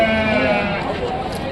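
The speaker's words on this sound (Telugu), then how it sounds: "చూడండి ఒకసారి మేకలను చూడండి." Goats bleating at a busy goat market in Rajarampalli, several overlapping harmonic calls close by over constant crowd chatter and people talking.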